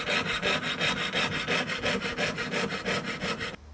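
A hand saw cuts through wood for carving work in steady, rapid back-and-forth strokes, loud and close, about four strokes a second, stopping abruptly at the end with no talk.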